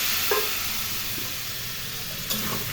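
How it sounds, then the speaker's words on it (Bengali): Tomato paste and a splash of water sizzle softly in a pan with rui fish, a steady low hiss with a couple of brief stirring scrapes. "টমেটো বাটা দিয়ে দিলাম। অল্প জল দেব, জল দিয়ে ভালো করে কষিয়ে নেব।"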